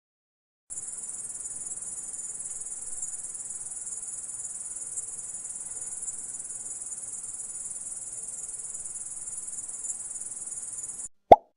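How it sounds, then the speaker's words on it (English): A grasshopper chirps in one continuous, high, shrill, dense buzz lasting about ten seconds, steady and fairly loud, then stops abruptly, followed by a brief soft plop. "Grasshopper."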